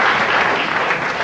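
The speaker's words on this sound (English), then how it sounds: "I actually got applause for an introduction" Audience applause after a speaker's introduction at a Texas event, a dense burst of clapping from a sizeable crowd, loud and close, alone with no talk.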